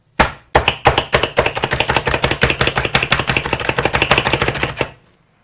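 A slap chop dices onion in a fast run of sharp plastic clacks, one after another, close and loud.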